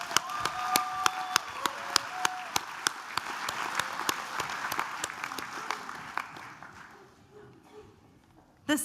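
Audience applause at a graduation ceremony for a certificate in beauty therapy, steady dense clapping across a hall with a few sharp louder claps near the front, fading out over the last couple of seconds.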